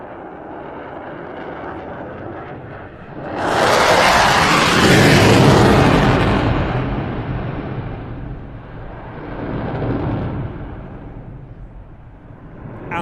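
An F-16 jet flying an airshow display, spiralling while dropping flares: a far roar swells into a loud, broad rushing pass, then fades and surges once more before dying away.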